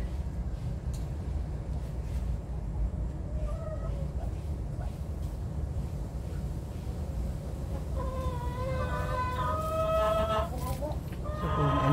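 Cornish bantam chickens cluck over a dense, steady wash of background noise, and a few short crowing calls rise near the end. The calls sound fairly close.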